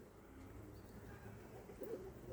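A male pigeon gives a faint, brief coo over a steady background hum, heard from a short distance.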